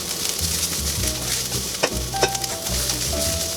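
Onions fry in a pan with a steady close sizzle, joined by scraping stirs and a few sharp clinks against the pan.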